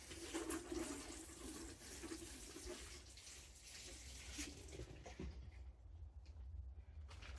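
Water poured or running steadily onto a freshly potted tree set on a base, a continuous close splashing rush that thins out near the end, with no voices.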